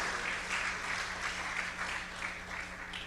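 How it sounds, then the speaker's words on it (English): Audience applause at the opening ceremony of the Caribbean Broadcasting Union's 54th Annual General Assembly, a steady wash of clapping lasting about three seconds at moderate level with a faint low hum beneath. "Ladies and gentlemen, another round of applause, please, for the Attorney General and Acting Prime Minister."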